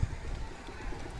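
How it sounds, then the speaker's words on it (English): Horse hooves clip-clop on pavement during a historic parade at the 2016 Fiesta in Santa Barbara, with a white horse among the riders; the steady, uneven clatter runs under crowd noise and nearby chatter. "Look at the mane on the white horse there."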